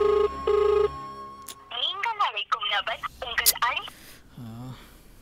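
A telephone rings in short repeated bursts at the start, then people talk over a music bed for the rest of the moment.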